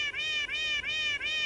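A human-to-cat translator app plays a synthetic cat meow through a phone speaker: four evenly spaced, identical rising-falling meows repeating in a quick, clear loop.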